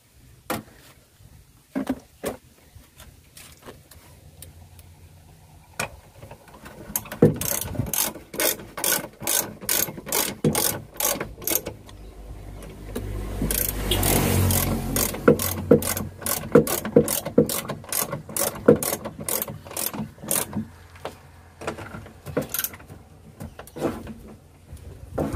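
Ratchet wrench tightening the 12 mm bolts on a steering bearing of a 2003 Suzuki Espass: bursts of fast, crisp clicking strokes, close and fairly loud, with short pauses between runs and some metallic handling noise.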